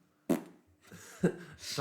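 A person imitates a fart with their mouth: two short, loud, buzzy raspberry bursts about a second apart, close to the mic, followed by a rising breathy noise.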